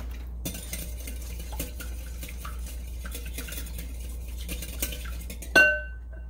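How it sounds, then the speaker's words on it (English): An egg being whisked in a bowl, quiet scattered clinks and scrapes of a utensil against the dish, ending in a brighter ringing tap. "Let's whisk up this 1 egg. Let's beat it up."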